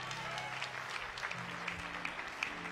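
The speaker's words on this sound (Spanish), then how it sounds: "Den un aplauso al Señor." Faint, distant applause from a church congregation, a soft continuous patter of clapping with a low voice or music murmuring underneath.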